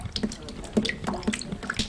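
Water drips and trickles from plumbing leaks into buckets inside a run-down apartment unit, with irregular nearby drops and splashes over a low wet background, no talking.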